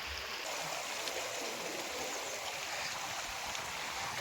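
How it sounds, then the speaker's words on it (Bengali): Icy snowmelt from mountain springs rushes down a river near the Amarnath Yatra route, a steady, dense wash of flowing water close by with no pauses. "পাহাড়ি ঝর্ণা থেকে যে বরফ গলা জল বয়ে আসছে"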